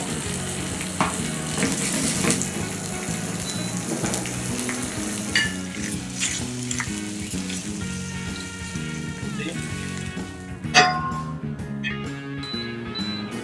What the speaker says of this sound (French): dans une poêle bien chaude. Y déposer la caille, puis l'assaisonner.